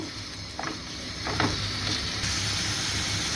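Minced chicken frying in spice paste while being stirred, a steady soft hiss and sizzle with a few scraping clicks from the spoon, close and fairly quiet.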